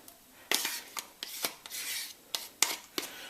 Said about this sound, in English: Just going to give that a quick mix.